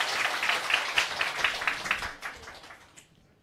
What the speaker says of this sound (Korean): 기사를 써주신 분에게 박수 부탁드립니다.